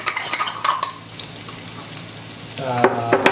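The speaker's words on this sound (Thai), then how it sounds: "กระเทียมนะครับ ลงไปผัดให้หอมนะ" Garlic stir-frying in a pan sizzles steadily, with a spatula scraping and stirring in bursts near the start and again toward the end, close and fairly loud.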